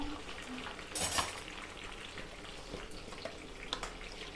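Masala chicken frying in a pan, a steady soft sizzle and crackle throughout, with a brief louder burst of spatter or stirring near the start and a few small clinks later.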